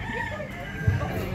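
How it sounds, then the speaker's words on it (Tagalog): A bantam rooster crows with a drawn-out, strained call that stands out fairly close, while faint voices murmur in the background. "Chicken. Bantam ata yan."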